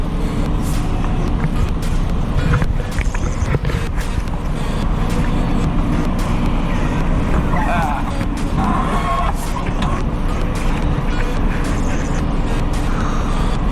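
A large, freshly overhauled bus engine rumbles steadily and loudly up close, with clattering and brief hissing bursts layered over the continuous running noise.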